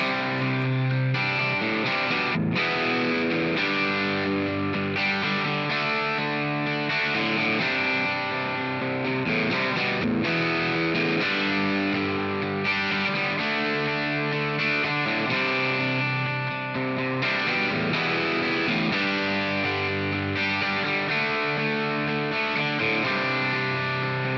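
Distorted electric guitar strums the chorus riff of a song, loud and continuous with rhythmic chord hits and brief gaps, no voices.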